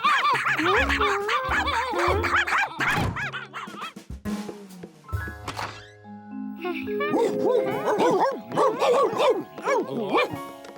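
Cartoon dogs bark and yap in a busy animated scene, several sharp barks mixed with playful chuckling and jingling over lively background music and some vocal sounds.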